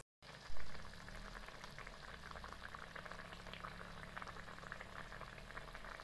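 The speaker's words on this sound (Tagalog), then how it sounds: "nibukal na siya" Pot of sautéed alugbati greens and sardines simmering on the stove, a continuous bubbling and light sizzle throughout, close and fairly even in level.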